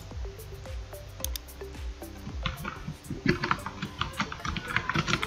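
Typing on a computer keyboard, with a run of quick, light key clicks at close range that are irregular in rhythm and get denser toward the end, over a faint background hum.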